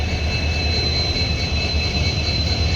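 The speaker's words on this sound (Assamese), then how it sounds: "ট্ৰেইন আহি পাই গ'ল" A train pulls into Rangia station with a steady, loud rolling rumble and a faint high whine held throughout, with no voices.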